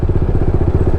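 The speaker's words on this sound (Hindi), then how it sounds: "अब इंजन को स्ट्रगल करना पड़ रहा है, खट खट खट खट खट खट आवाज़ आ रही है।" A motorcycle engine knocks and struggles at low speed in sport mode, with a loud, close, rapid and even train of thudding pulses and no voices.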